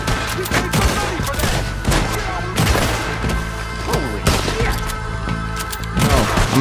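Rapid gunfire from a shootout in Red Dead Redemption 2, with repeated sharp cracks and heavy thuds in dense bursts over a steady game soundscape, loud and close throughout.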